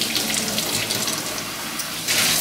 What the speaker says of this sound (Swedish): Så jag sköljer in vid vatten.